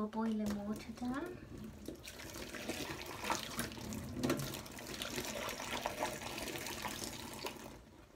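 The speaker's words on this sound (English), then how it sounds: "Then I pour boiling water down." Boiling water is poured into a vinegar-treated kitchen sink drain, a continuous splashing rush that lasts several seconds under a voice speaking at the start.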